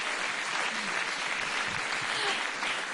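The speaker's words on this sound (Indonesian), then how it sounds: "tepuk tangan" Sustained audience applause at an Indonesian event around a presidential inauguration, dense steady clapping filling the space, loud and continuous throughout with no pauses.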